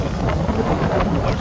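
Strong coastal wind at Oryukdo in Busan buffeting the microphone, a loud, rough rumbling gust with fluttering bursts throughout.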